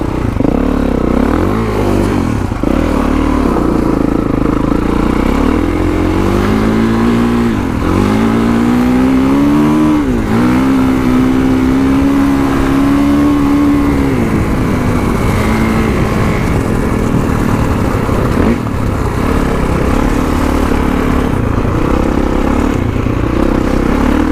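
A motorcycle being ridden, its engine droning steadily throughout as the revs repeatedly climb and fall, loud and close with no talking.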